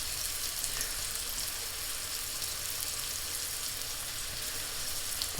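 Onions, ginger and garlic sizzle steadily in a pot for lentil curry, an even, soft hissing fry with no talking.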